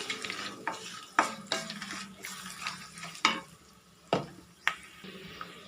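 Asafoetida and tempering spices frying in oil for mango pulihora: soft sizzling broken by several sharp clinks and scrapes of a spoon stirring the pan, close and fairly quiet, with no talking.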